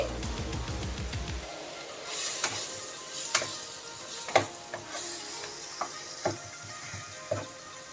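Finely chopped capsicum fries in a pan with a soft sizzle and a run of sharp, scattered clicks and taps from stirring, fairly close and fairly quiet, with no voices.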